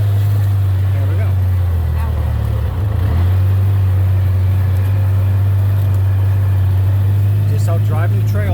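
A four-wheel-drive vehicle's engine drones steadily as it creeps along rough deer camp trails during bow season, a loud constant low hum running the whole time with occasional bumps and faint background noises.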